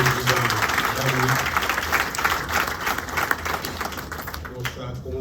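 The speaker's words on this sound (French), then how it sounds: "Je vous demanderai d'abord d'applaudir le MEDES et le président Dani" Audience applause at a forum, steady dense clapping from a large crowd sustained throughout, fading slightly at the end with some voices mixed in.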